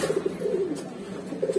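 A pair of high flyer pigeons at a pigeon shop coo softly in a few low, throaty, repeated calls, close by and moderately quiet, with no talking.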